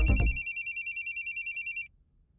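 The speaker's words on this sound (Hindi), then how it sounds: "फोन।" A telephone rings in a rapid electronic trill, a steady run of about a dozen short pulses lasting under two seconds, close and clear, then cutting off into quiet.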